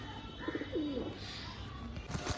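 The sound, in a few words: pigeons cooing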